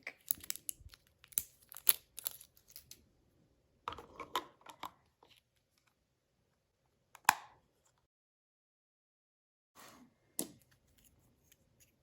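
Plastic wrapping being torn and peeled off a AAA battery for a ThermoPro TP511 digital thermometer: close, sparse crinkling and sharp tearing snaps in short bursts, separated by quiet pauses, with no talk.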